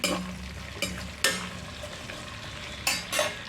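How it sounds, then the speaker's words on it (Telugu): Garlic and chopped green chillies fry in oil in a pan, sizzling close by while a spoon stirs and scrapes in a few sharp bursts. "ఇప్పుడు ఇందులో వెల్లుల్లిపాయలు వేద్దాం కదా పచ్చిమిర్చి కట్ చేసి ఉంచుకున్నాం కదండి అవన్నీ వేసేయాలి"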